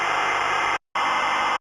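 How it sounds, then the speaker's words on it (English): A ZX Spectrum game loading from cassette tape: a harsh, screechy broadband data tone, loud and steady, broken by a brief silent gap before resuming, with no voices. "What we're listening to is the loading sound of how you loaded games into the Spectrum."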